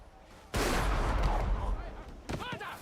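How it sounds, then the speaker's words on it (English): A hand cannon fires in the stealth game Shadow Tactics: one loud, sudden blast with a long rumbling tail lasting over a second. A short voiced sound follows near the end. "Hand cannon."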